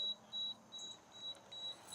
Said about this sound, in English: I have a minimum temperature alarm set just to make sure in case this runs out of fuel or the temperature dips too low.